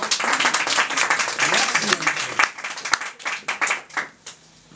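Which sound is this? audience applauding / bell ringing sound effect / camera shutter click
audience applauding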